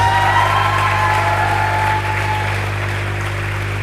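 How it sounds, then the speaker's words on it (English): An audience applauding at an inaugural microbiology series event, a dense, sustained wash of clapping that eases slightly after about two seconds and carries on to the end. "Put your hands together for yourselves."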